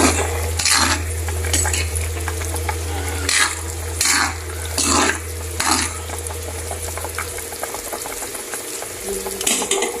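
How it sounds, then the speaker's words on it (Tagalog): A spatula stirs ingredients in a frying pan, with a low sizzle underneath and repeated scraping and clanking strokes against the metal, some louder bursts in the first half, close and continuous. "Haluin natin ang konti."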